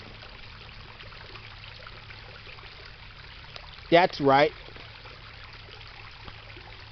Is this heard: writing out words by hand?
no